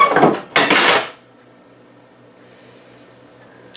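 A cat lets out two short, breathy bursts up close, like a snort or hiss, followed by near silence.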